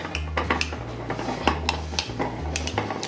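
A utensil scrapes and clinks steadily against a pot while melted fat and medicinal herbs are stirred in a bain-marie over boiling water, close and continuous with no voices.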